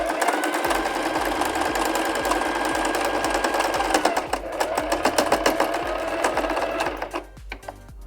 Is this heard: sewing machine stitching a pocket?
yes